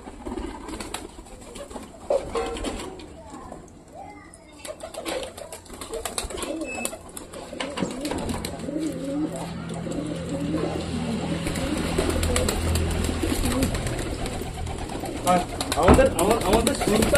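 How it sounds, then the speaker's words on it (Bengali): Domestic pigeons around their home coop and feeding spot, cooing softly and repeatedly, with occasional wing movement, while a person talks nearby. "নতুন পায়রাটা উপরে উঠছে, সেই পায়রাটা আমার মনে হচ্ছে নেমেছে"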